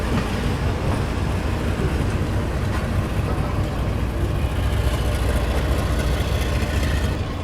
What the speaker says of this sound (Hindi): निकल गई है ट्रेन अपनी जो है गाज़ियाबाद जंक्शन से